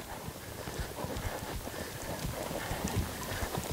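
A horse trots during a schooling session, its hooves making a steady, moderately close clip-clop under light wind noise, with no speech.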